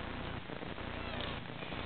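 A week-old Burmilla kitten in a litter with its mother meows softly and close by, its small cry rising over a steady background hiss for most of the short moment.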